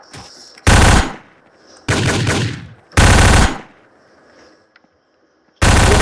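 Bursts of automatic gunfire from an XM8 rifle in the zombie shooter game Zumbi Blocks, four loud sustained volleys of about half a second each, separated by quieter gaps of game ambience.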